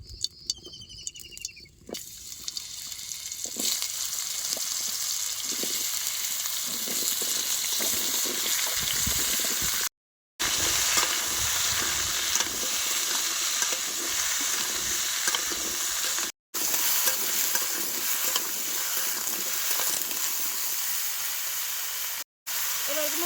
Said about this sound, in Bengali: এবার কুমড়া রান্দানিকে কড়াইতে দিয়ে দেবো সরষের তেল